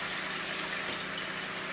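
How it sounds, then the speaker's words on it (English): Water poured into a pot of coconut fish curry with potatoes, a steady, fairly loud rushing pour lasting throughout with no talk. "you have to pour water into your coconut curry"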